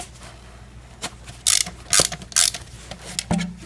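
Ratcheting wrench loosening the three fan clutch fasteners on a Mercedes ML350 W163, heard as three short bursts of ratchet clicking with small metallic clanks in between, close up and without speech.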